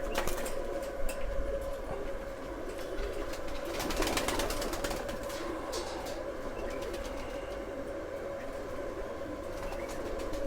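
Pigeons at a loft, including an aged bird, cooing softly now and then over a steady, noisy background with faint rumbling and clatter.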